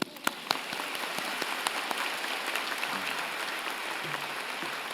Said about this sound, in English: Graduates, let's clap.